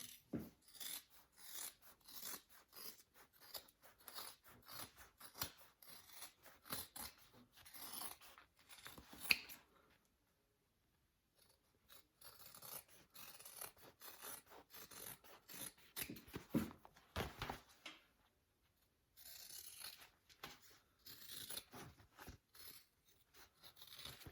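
Scissors snip and rasp through wallet material in a long run of quick, close cuts, broken by two short pauses, with no one talking.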